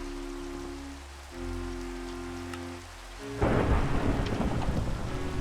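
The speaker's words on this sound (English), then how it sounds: "Ew to the thunderstorm" Rain pours with thunder in a Minecraft SkyFactory 3 world, a sudden loud downpour hitting after steady low hums, continuing as a dense hiss with rumbling underneath.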